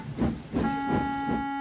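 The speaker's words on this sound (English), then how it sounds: "Stuart headed Falcon's train with Duke coupled behind" A steam engine train working along the line, with rhythmic chuffs about every third of a second over a sustained hissing whistle tone, close and clear.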